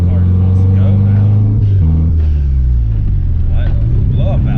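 Car engine droning and rising in pitch as the car pulls away under load, a loud close-up cabin hum with shifting tones, while people talk over it.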